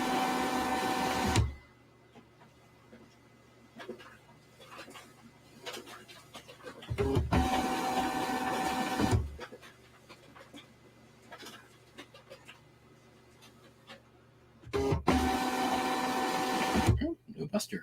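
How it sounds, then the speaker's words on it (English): A printer runs in three loud mechanical bursts of whirring and feeding, separated by quieter stretches, while a person talks nearby throughout. "Printer's going."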